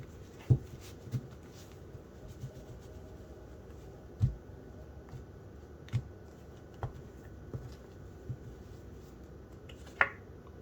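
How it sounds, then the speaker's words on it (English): Tarot cards are shuffled by hand, producing soft, sparse snapping clicks at irregular intervals against a quiet background. "One more shuffle."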